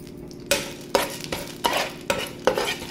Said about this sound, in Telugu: ఇప్పుడు ఈ ఆయిల్లో మనం పోపు దినుసులు వేయాలండి.